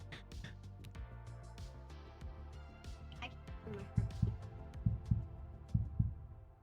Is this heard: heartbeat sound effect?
yes